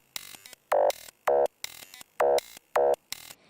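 Looped electronic drum beat from a music-production session, with percussive hits alternating with short sustained pitched tones in a steady repeating rhythm, up close and clear with no talk over it.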